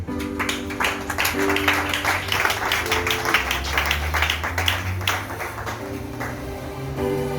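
A church congregation applauds, a steady crowd clapping that carries on for several seconds, with a sustained tonal hum underneath from music or an organ.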